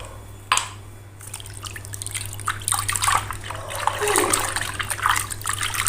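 Water poured into a basin for washing clothes at home, splashing and trickling close by with a sharp knock early on, the pouring swelling louder in the second half.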